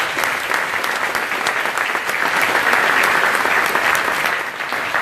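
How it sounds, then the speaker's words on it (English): Sustained audience applause fills a 2017 student recognition awards ceremony, a dense, even wash of clapping that swells slightly midway and continues steadily without talk. "Give them a big round of applause."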